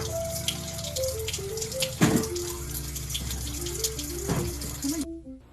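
Tap water runs steadily into a sink during a medical hand-washing routine with soap lathered up to the forearms, with a couple of louder splashes, close by; a soft melodic tone plays in the background.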